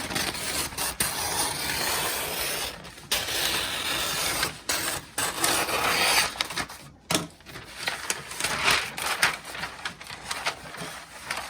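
Scissors cutting through A-sub sublimation paper for DIY wrapping paper, a steady close run of crisp snipping and rustling strokes with brief pauses between cuts, alone without talk.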